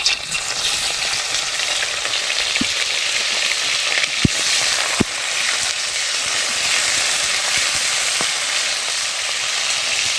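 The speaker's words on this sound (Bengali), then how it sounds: "কড়াইতে হালকা পরি মানে পরিমাণ মতো তেল দিয়ে দিয়েছি এবার এতে কুচা মাছগুলো ভাজি করে নেবো" Small fish fry in hot oil in a wok, a steady loud sizzle filling the whole stretch with a few sharp clinks of a utensil against the pan and no talking.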